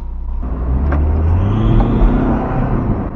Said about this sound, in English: you guys heard that squeal? That actually wasn't belt squeal. That is the turbo